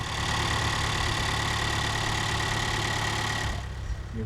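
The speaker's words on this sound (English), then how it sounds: "we're gonna let the engine warm up a little bit." A 2024 Toyota Tacoma with a K&N cold air intake idles steadily at close range, a smooth continuous low rumble that stays even throughout and eases slightly near the end, with no voices.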